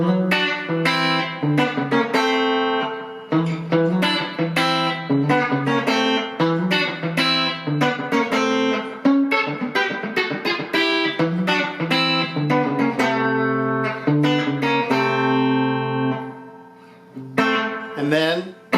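An electric guitar plays a chicken-and-hybrid-picking lick of bright, snappy plucked notes and double-stops, slightly driven, with short pauses between phrases.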